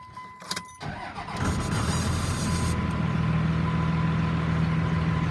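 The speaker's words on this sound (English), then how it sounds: "Get that truck started." A truck engine cranks over briefly after a few clicks, catches, and settles into a loud, steady low idle that runs close by until the end, with nobody speaking.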